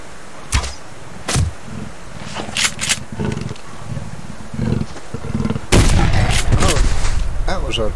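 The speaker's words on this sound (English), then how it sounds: "A tree climbing cat there." A wild cat in the survival game Subsistence lets out bursts of roaring, with sharp impact-like cracks scattered through and a loud, dense stretch of sound near the end.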